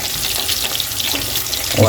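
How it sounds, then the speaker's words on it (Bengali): Amodi fish pakoras frying in hot oil give a steady, dense sizzle close by, holding level throughout with a slight swell at the end. "দামদি মাছের পকোড়া তৈরি হচ্ছে ভাজা হচ্ছে"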